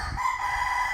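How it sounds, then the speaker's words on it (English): A rooster crows loudly nearby for the full second, its sustained call ringing out over a low background rumble, with no talking. "I'm sorry for the rooster."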